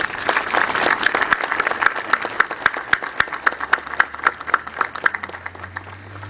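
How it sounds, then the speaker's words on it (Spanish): Enthusiastic applause from an audience at an outdoor civic welcome for a bishop's arrival in Tenancingo, dense rapid clapping that thins toward the end into a few scattered claps. "Le damos un fuerte aplauso."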